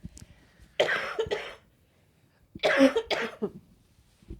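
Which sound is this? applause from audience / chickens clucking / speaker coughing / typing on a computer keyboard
speaker coughing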